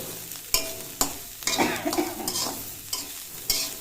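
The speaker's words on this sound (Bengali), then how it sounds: "শাক ভাজা যেটুকু বাকি আছে আর এই পেঁয়াজ ভাজাটা হয়ে যাবে" Radish greens and onions fry in a pan with a steady sizzle, broken by sharp scraping stirs of a utensil at a loose, irregular rhythm, close up and with no talk.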